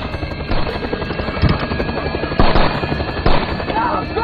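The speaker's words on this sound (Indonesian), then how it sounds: "ketuanya kabur menggunakan helikopter" A helicopter's rotor thumps and whines continuously, with a few louder pulses and bangs breaking through the dense mechanical roar.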